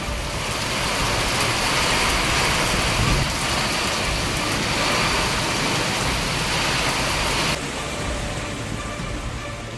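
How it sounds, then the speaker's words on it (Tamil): Heavy rain pours steadily during a Tamil Nadu downpour, a loud, dense hiss of drops on surfaces that eases slightly near the end, with no talk. "பல்வேறு இடங்களில் மழை பெய்தது"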